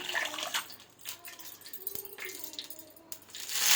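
Spinach leaves are washed in water, giving close splashing and sloshing with small clinks and rattles of a vessel, rising to a louder wash at the end.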